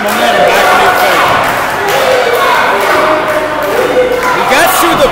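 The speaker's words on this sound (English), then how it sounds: "the USA chants ringing loud for Stratmore" A wrestling crowd in Kill chants USA loudly and continuously for wrestler Stratmore during a match, a dense roar of voices throughout with a commentator's voice mixed in.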